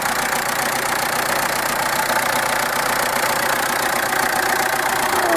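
A turbocharged 2.5-litre diesel engine in a Hyundai Galloper 2.5 TD 4x4 idles steadily up close, a constant broadband rumble with a rough knocking texture and no talk, holding level throughout.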